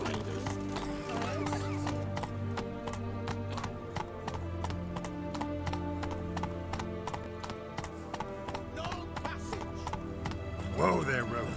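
Roach the horse gallops in The Witcher 3: Wild Hunt, a steady run of close clip-clopping hoofbeats layered over continuous game music, ending with a brief rise of other sound near the finish.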